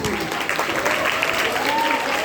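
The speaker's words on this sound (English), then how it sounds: "another round of applause for her too." Dense, steady applause from a school assembly audience, loud and continuous across the whole short stretch.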